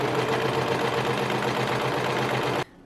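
A serger overlocks the raw fabric edges of a T-shirt dress made from men's shirts, giving a loud, steady, rapid mechanical whir for over two seconds before it stops abruptly.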